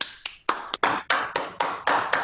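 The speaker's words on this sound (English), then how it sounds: "Let's give a round of applause to" Sparse, uneven claps from a few online meeting participants during a webinar, about nine separate close hits spread across two seconds, with no talking.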